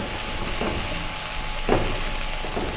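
Masala fried rice with egg is stir-fried in a pan with a loud, continuous sizzle and a few scraping stirs, heard close with no talk.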